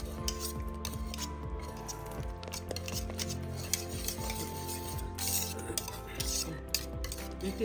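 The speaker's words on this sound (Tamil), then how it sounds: "நம்ம இதை அழகாக கலந்து விட்டுக்கலாம்" Semolina mixture being stirred in a pot, with a steady run of scraping and clinking utensil sounds against the pan throughout, fairly close and continuous, with no voices.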